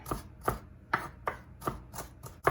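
A knife finely dices vegetables on a cutting board, seven crisp close chopping knocks at a fairly even, unhurried rhythm with faint rustle between strikes.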